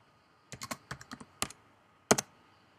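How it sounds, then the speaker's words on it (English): Typing on a computer keyboard while setting crop dimensions in Photoshop: a short burst of about nine light key clicks in quick, uneven rhythm, then a louder double tap, close and clear in a quiet room. "you need to actually type that in."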